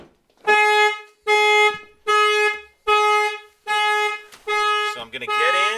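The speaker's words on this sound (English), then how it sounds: "the alarm's going to be going loud" A Nissan Sentra car alarm wails in six loud, evenly spaced bursts of a harmonic siren tone, followed by a rising, sweeping wail at the end.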